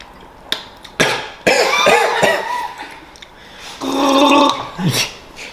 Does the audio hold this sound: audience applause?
no